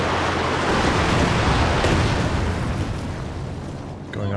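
A Werfer rocket barrage in Company of Heroes 2 pounds down as a dense, continuous roar of overlapping explosions that swells loudly and then tapers off, with no clear gaps between blasts.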